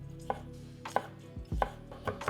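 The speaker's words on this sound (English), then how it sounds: "Then I like to start with slicing the garlic cloves before rough chopping." Garlic cloves being sliced and then roughly chopped with a kitchen knife on a cutting board, heard as a series of close, crisp, irregular knocks, with no talking.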